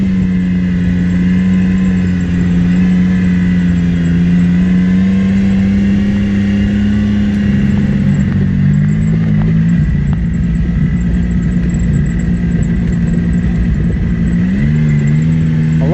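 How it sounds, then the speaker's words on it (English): BMW X3 engine with a steady low burbling drone throughout, pitch shifting slightly as the driver comes off the throttle and the clutch takes up again, heard from inside the car with no talking. "I love the sound of the X3 when you're off the gas and it's starting to pick the clutch up again"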